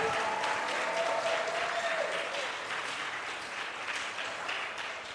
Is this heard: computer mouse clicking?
no